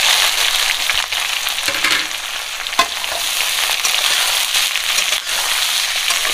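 Sliced onions fry vigorously in very hot oil for a village-style chicken curry, a dense, steady sizzle and crackle with occasional stirring scrapes, loud and close throughout with no talking.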